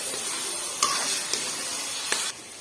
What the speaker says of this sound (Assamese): এতিয়া গোটেইখিনি এনেকৈ লৰাই পেলাম অলপ।